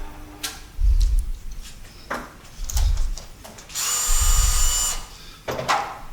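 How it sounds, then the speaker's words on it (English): A negative rake scraper is pressed slowly against a CBN grinding wheel, with a low motor hum under repeated bursts of grinding and one longer, bright, hissing grind, no talk. "I rest that on, slow, down to the wheel. And again, that's forcing that burr."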